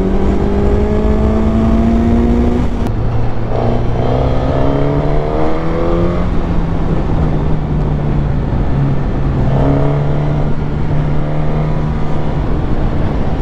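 A 2021 Suzuki GSX-S1000, the 152-horsepower version, accelerates hard, its engine note climbing through quick clutchless upshifts and then dropping on downshifts, loud and close with steady wind roar and no talking.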